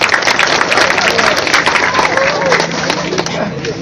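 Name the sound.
applause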